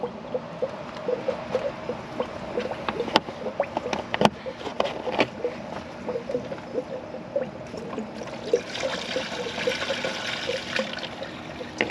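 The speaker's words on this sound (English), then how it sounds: "You'll hear all the trapped air coming out of there." Irregular gurgling and bubbling as trapped air escapes engine coolant in a 2006 Chrysler 300 SRT8, with trickling liquid and occasional sharp clinks, fairly close and without talk.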